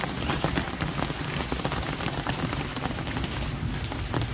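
Late-May rain pattering steadily on an open umbrella, a dense close hiss of drops with scattered sharper taps throughout and no talk.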